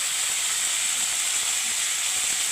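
Pieces of boal fish go one by one into hot mustard oil in a pan, giving a steady, loud, even sizzle and hiss that runs without a break and with no voices over it.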